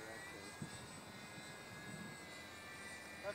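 Durafly Rare Bear 400 mm radio-controlled model plane flying at part throttle, heard as a faint, steady, distant motor drone with a few soft bumps and no voices.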